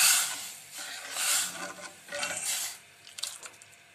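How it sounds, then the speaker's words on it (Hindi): Spiced moong masoor dal with tomato, ginger and green chili being stirred in a pot, giving scraping, clinking spoon-against-metal sounds in uneven bursts, close and fairly quiet with no talking. "दाल को मिक्स कर लेते हैं।"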